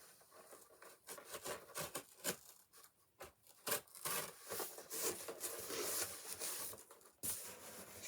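A cardboard box seam being cut open with a blade, uneven scraping, rubbing and tearing up close, with short pauses between strokes.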